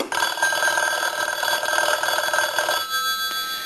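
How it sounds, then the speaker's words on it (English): A Stromberg Carlson rotary wall telephone's bell rings with a rapid metallic trill after repair, loud and close, sustained for a few seconds before cutting off into a fading ring. "we're going to go ahead and ring the telephone now"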